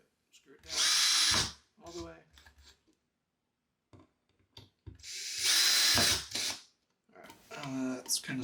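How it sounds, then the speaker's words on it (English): Power drill driving mounting screws to fix a Blink video doorbell in place, two loud whirring bursts of a few seconds each separated by quieter handling noises, with a person talking briefly in between. "Let's kind of screw it down all the way."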